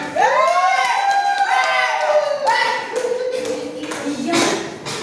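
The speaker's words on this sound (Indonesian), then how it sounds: "Ya, oke lah, tepuk tangan." Classroom applause from a group of students, a burst of clapping and cheering mixed with children's excited voices that swells and fades over several seconds.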